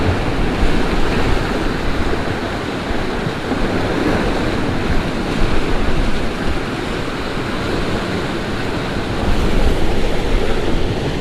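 Ocean surf rolling onto a rocky shore with steady wind buffeting the microphone, a continuous broadband wash of breaking waves, loud and constant with no voices.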